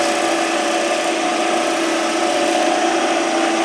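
Grizzly G0733 wood lathe spinning an Arizona ash blank while the edge is beveled, a steady continuous motor hum with a high whine, loud and even throughout with no pauses.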